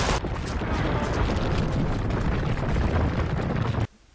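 A loud, sustained explosion roars as a tower is blown up in the video game Uncharted 2: Among Thieves, a dense rumbling blast lasting nearly four seconds before cutting off abruptly.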